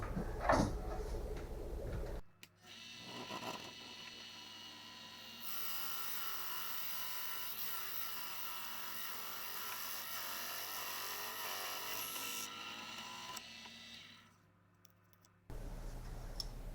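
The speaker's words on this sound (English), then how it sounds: "we're going to go ahead and bore out this wood with the 23 millimeter portion of it" A drill bores a 23 mm hole through wood from a used bourbon whiskey barrel, a long steady whine lasting over ten seconds with a louder middle stretch, bracketed by brief handling noise.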